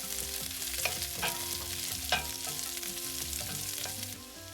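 Split shallots and halved green chillies frying in hot oil in a pan for a Kerala-style mushroom theeyal, a steady close sizzle with stirring scrapes and clinks throughout, no voices.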